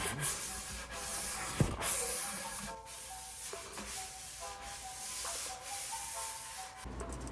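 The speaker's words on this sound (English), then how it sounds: "Before I add finish, I make sure to finish sand one last time." Hand finish-sanding of Canarywood before finishing gives a soft continuous rubbing hiss in steady back-and-forth strokes, close and moderate, with a sharp knock partway through.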